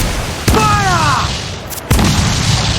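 Ship cannons fire in Assassin's Creed IV Black Flag during a naval battle, two loud booming blasts about a second and a half apart, the first trailed by a rising tonal whine, with no talk.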